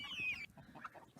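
Chickens in a large backyard coop cluck and call in a brief, close burst, with one higher drawn-out squawk at the start followed by softer scattered clucks.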